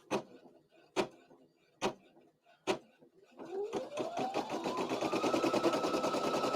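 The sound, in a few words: embroidery machine stitching an applique placement stitch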